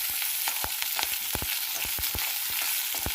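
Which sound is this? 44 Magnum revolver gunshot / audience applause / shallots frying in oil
shallots frying in oil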